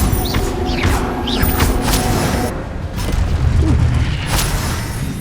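An Incendio fire spell cast in the video game Hogwarts Legacy bursts out in a string of loud, crackling whooshes and booms, with brief rising magical tones over busy combat effects.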